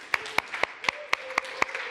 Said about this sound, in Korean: 아마 우리 박수로 좀 한번 격려하겠습니다.